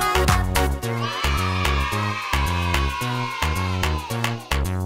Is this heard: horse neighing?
yes